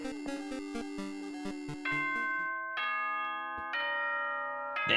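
Doorbell-style ding-dong chime from Danganronpa 2: Goodbye Despair, ringing out as a series of clear sustained tones, loud and close, preceded by a rhythmic chiming melody, with no talk.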